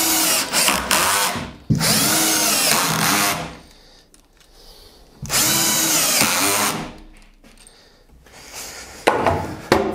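Power drill driving 3x25 screws into a 15 mm board, three loud whirring bursts of about two seconds each separated by quiet pauses, with short clicks at the start and end.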